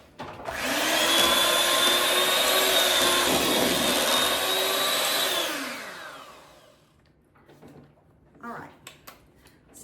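A hand mixer whirs loudly for several seconds, blending canned pumpkin puree into a cheesecake filling, then winds down and stops, followed by light clinks of a spoon and bowl.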